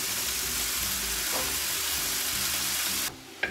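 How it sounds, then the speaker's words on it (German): Minced meat frying in hot oil and clarified butter in a pot, a loud steady sizzle with stirring scrapes that drops off abruptly near the end, followed by a brief clatter. "Das braten wir jetzt krümelig an."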